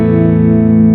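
An electric guitar played through a Boss Space Echo RE202 tape-echo pedal gives a loud, sustained, distorted chord that rings evenly for about a second with a dense, buzzy tone.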